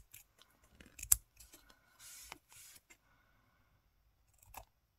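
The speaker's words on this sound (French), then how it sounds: "Je vais venir couper ce qui dépasse." Scissors snip off the overhanging edge of paper on a scrapbook collage, giving a few quiet, close cuts and short crisp rustles separated by silence.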